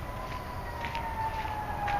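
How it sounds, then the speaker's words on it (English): A faint, distant emergency siren wails over a muddy backyard during demolition work, a thin rising tone heard briefly through low background rumble. "not often you hear the sirens here"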